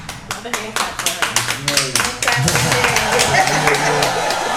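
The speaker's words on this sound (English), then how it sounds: "Another hand clap for her" An audience claps in a crisp, loud, rhythmic unison beat that then swells into a denser burst of clapping and crowd noise, with voices mixed in underneath.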